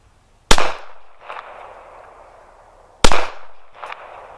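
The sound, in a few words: Glock 42 pistol firing round nose rounds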